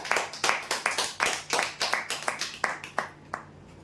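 An audience at a prize draw claps for a winner in a short burst of distinct, fairly close handclaps. The clapping quickly thins out and stops within a few seconds.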